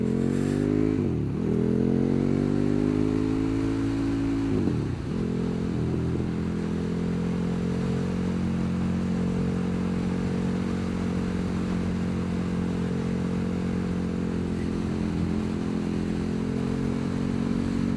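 A KTM Super Duke 1290 R motorcycle is ridden with a loud engine drone heard up close, dipping and rising with shifts early on, then holding a steady cruising pitch.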